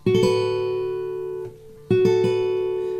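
A guitar chord strummed and left to ring, then struck again after a short pause, clear and close.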